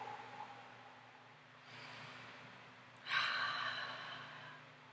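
A person breathes deeply, a soft long exhale followed after a pause by a louder, sharper breath, close and alone in a quiet room.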